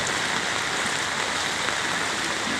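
Steady, heavy rain pours down continuously outside a house, flooding the street, a dense hiss of drops with no voices.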